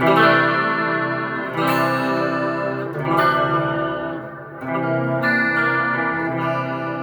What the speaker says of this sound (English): That's like a super chorus sound, right?